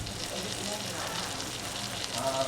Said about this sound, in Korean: 육전을 굽고 있습니다.